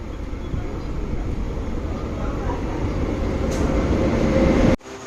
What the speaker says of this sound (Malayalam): നമ്മൾക്ക് പോവാനുള്ള ട്രെയിനാണ് ഈ വരുന്നത്